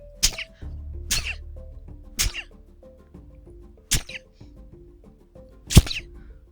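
Five sharp, forceful sneezes come at uneven intervals, each a loud close burst, while soft melodic background music plays underneath.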